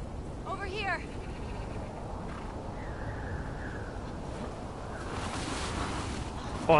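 Steady, broadband wind gusting across an open area in The Last of Us Part II, loud and constant over the whole stretch, with brief voices now and then.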